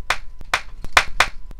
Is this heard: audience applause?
yes